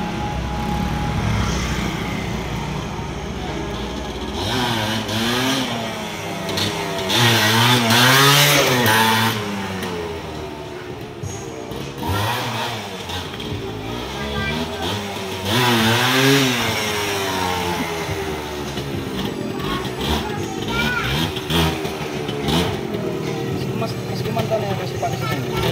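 A Suzuki TS 100 motorcycle's 100cc engine revs hard and steadily, rising and falling in pitch through repeated throttle blips, loud and close the whole time, with occasional voices underneath.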